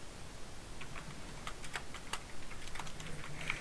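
Keyboard typing during a Fortnite gaming session, a steady run of close, quick key clicks with a few sharper taps, over faint background hiss and no talking.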